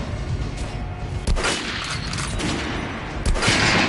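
Bursts of gunfire aimed at an armored target dummy in the video game Metro Last Light, a dense rattling volley with two sharper heavy shots standing out, loud and continuous with no talk.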